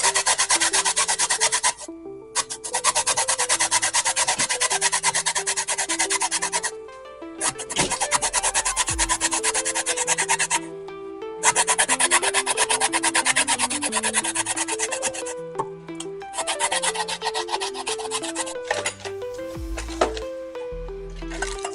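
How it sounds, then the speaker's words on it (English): Citrus peel being zested for a sweet and spicy slaw, making loud, close, repeated rasping strokes in long bursts with brief gaps, and no talk. "And we're going to do the zest."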